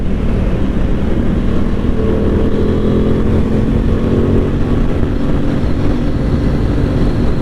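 An Aprilia Tuono 660 motorcycle engine drones steadily while riding, with a low rumbling tone and constant wind and road noise throughout.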